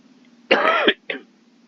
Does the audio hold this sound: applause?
no